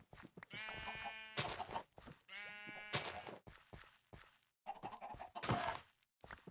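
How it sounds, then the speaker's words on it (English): Minecraft chickens in the FTB Skies modpack clucking in short repeated game-sound calls, with clipped bursts and thunks between them, close and fairly loud, no talk. "Yeah, I'm going to shear the chickens."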